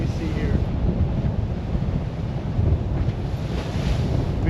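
Heavy wind roars across the microphone over the steady wash and crash of large North Sea waves against a sailboat, continuous and loud.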